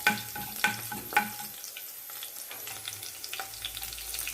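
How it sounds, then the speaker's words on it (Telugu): Crushed garlic fries in a pan for fenugreek dal, sizzling close by with a few sharp stirring clinks in the first seconds, then settling into a softer steady crackle. "కొంచెంసేపు అలా కొంచెం వేగేంత వరకు వేపుకోవాలి"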